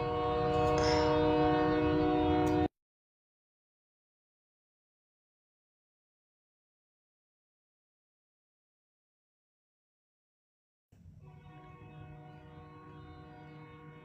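A loud passing train gives a dense, roaring rumble that cuts off abruptly into several seconds of silence, then returns somewhat quieter and continues steadily.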